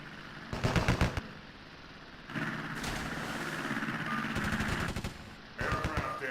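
Naval guns fire during a video game sea battle in three loud bursts of rapid, rattling shots. Quieter rumbling gaps fall between the volleys.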